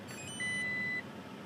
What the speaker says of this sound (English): there's beeping when you start the vehicle every single time.